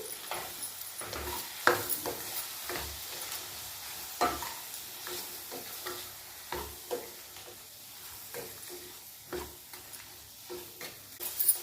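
Brinjal kadhi being stirred in a pan after turmeric goes in, a spoon scraping and knocking in an irregular rhythm over a steady soft sizzle, close and alone with no talk.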